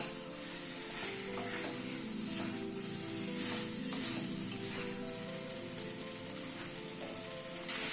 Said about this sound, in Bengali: কাজু পেস্টটা দিয়ে একটু নাড়তে হবে